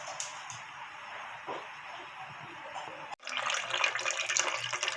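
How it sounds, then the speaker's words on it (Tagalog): Raw meat being rinsed under a weak-flowing kitchen tap, a steady hiss of running water that cuts out briefly and then returns stronger and splashier, close by and alone. "Uhugasan uli natin ng malinis na tubig bago natin siya lutuin."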